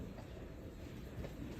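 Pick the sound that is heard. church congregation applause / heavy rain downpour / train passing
train passing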